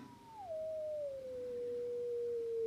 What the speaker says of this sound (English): These are harmonics for the sine wave.